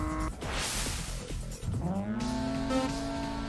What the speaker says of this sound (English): We got a different engine sound?